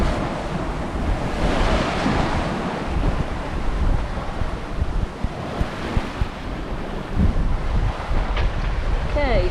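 Ocean swells and strong wind on a sailboat crossing between islands under windvane steering, a loud continuous rush of surf and buffeting wind noise on the microphone throughout, with no talk.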